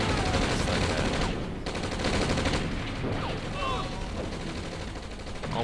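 In the real-time strategy game OpenRA, Hind attack helicopters fire on artillery units, producing dense, continuous rattling gunfire and bursts of explosions that stay loud and busy throughout.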